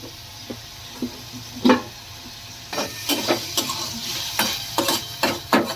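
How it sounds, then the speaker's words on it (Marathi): Cumin and mustard seeds hit hot oil for a village-style red amaranth curry, giving a soft, scattered crackle with sharp popping ticks that grow busier after a quiet start. "जिरे मोहरी टाकली."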